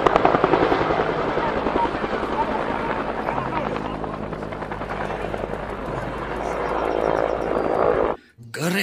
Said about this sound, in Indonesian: Wah, ada helikopter teman-teman.